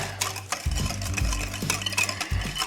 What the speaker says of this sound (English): We're going to mix that together.